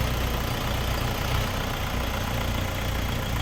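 A Jinma 404 four-wheel-drive tractor's engine idles steadily, a continuous low rumbling drone with no change in pace, close and fairly loud.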